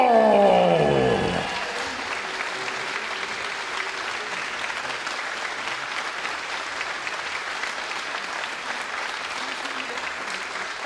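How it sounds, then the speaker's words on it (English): Loud applause and cheering from an arena crowd honouring the new champion at the final of a UK Open 9-ball pool championship, with an announcer's voice at the start before the clapping carries on steadily throughout. "Please give it up, make some noise from Hong Kong, Robbie Capito!"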